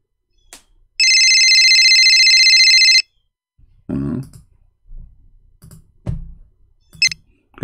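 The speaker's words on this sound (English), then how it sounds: "This is his cell phone." A cell phone rings with a steady electronic tone lasting about two seconds, loud and close, followed by quiet and a few short low sounds.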